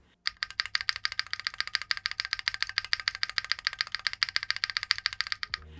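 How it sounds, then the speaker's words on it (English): Steady rapid typing on a Spectacle 60 mechanical keyboard with a flex-cut PCB and no foam inside, giving a hollow, rattly clack, close up and alone. "With no foams and the flex cut PCB, the board sounds pretty hollow, especially at the space bar."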